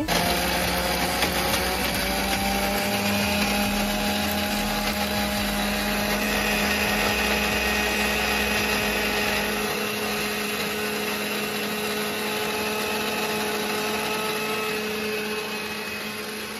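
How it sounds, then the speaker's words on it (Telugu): A mixer grinder blending coconut paste whirs steadily for the whole stretch, a loud continuous motor drone with a slight fade near the end. "మిక్సీ జార్లో వేసుకున్న ఐటమ్స్ అన్నింటినీ అయితే ఇప్పుడైతే మిక్సీ అయితే పట్టుకోవాలి"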